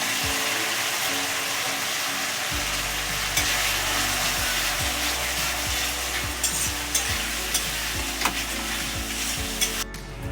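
Spices with poppy seed and cashew paste stir-fried in a pan for rui posto, a continuous loud sizzle broken by repeated rhythmic scrapes of a spatula, close and uninterrupted by talk.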